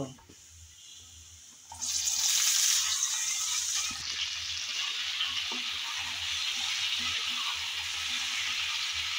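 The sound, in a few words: taro stolons frying in oil with garlic and ginger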